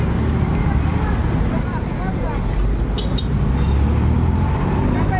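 Busy street traffic with cars, buses and other road vehicles rumbling past continuously and loudly at a crossing, with a dense roadway roar and background crowd babble.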